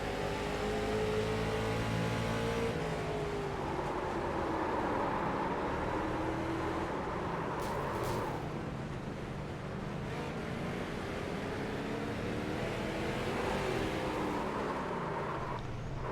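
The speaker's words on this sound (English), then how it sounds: "Listen very carefully to those brakes." Onboard a late model race car at Thompson Speedway, the engine drones and shifts pitch as the car brakes hard into corners and accelerates out, a steady loud mechanical roar with no talk.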